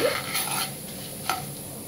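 Something fries briefly in a hot pan before cumin and dried chilies go in, a soft steady sizzle with a couple of faint scraping touches, close and low.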